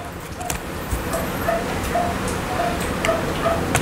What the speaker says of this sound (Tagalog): May nagko-concert na aso sa labas, guys.